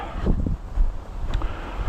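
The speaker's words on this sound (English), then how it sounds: "but it is windy today" Gusty wind buffeting a microphone on a snowy woods hike, rumbling low and uneven in bursts and lulls, loud and close, with no speech.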